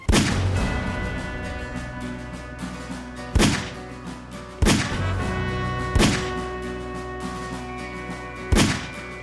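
Explosions from TNT in Garry's Mod: five heavy booming blasts at spaced intervals, each a sharp loud hit with a decaying tail, over a steady background music bed.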